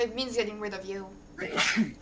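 A single sharp sneeze bursts out near the end after someone speaks, loud and close to the microphone.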